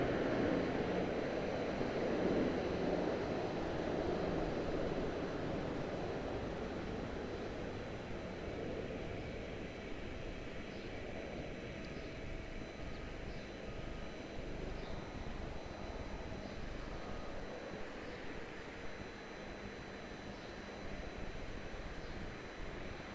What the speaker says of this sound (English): Super smooth departure for our 222 Dallas Fort Worth.